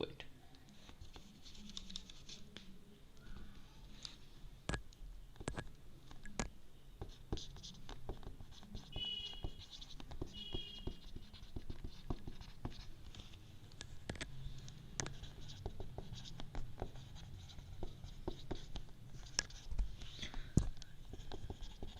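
Pen writing a C program by hand on paper, a quiet ongoing scratch broken by sharp little taps and clicks, close and faint, with occasional soft voice underneath.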